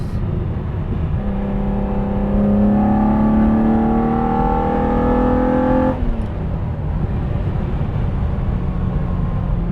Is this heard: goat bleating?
no